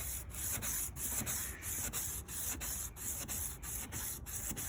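Steady rubbing of Turtle Wax compound by hand across a plastic headlight lens on a 1999 Volkswagen Beetle, a continuous close scrubbing with regular back-and-forth strokes, no talking.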